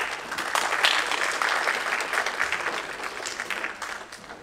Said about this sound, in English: Round of applause for such a beautiful art.